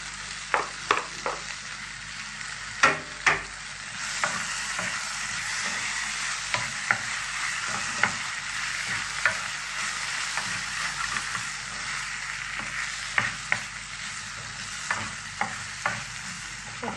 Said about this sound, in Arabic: احط بعد كده الصلصه